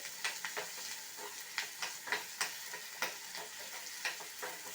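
Ginger and asafoetida sautéing in a pan, a soft continuous sizzle broken by frequent sharp ladle clicks and scrapes at an irregular rhythm, close and without voices.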